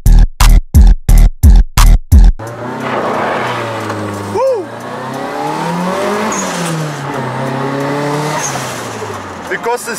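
Nissan Silvia S15 engine revved hard in a rapid series of six sharp throttle blips, then a sustained loud rising and falling engine drone, close up.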